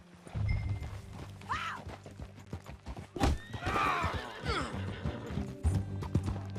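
A horse in Red Dead Redemption 2 whinnies twice in rising, wavering calls while its hooves clip-clop steadily underneath, close and fairly loud, with a heavy thud midway.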